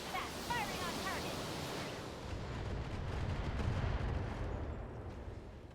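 Artillery fire on a target in a video game, a low rumbling boom with a long rolling decay that swells and fades over several seconds, preceded by a brief voice.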